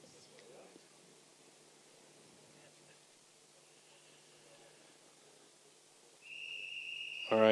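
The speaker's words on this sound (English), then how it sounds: "there's the whistle" Whistle signalling the start of a timbersports event, a single loud steady tone arriving near the end after a quiet stretch of faint crowd ambience.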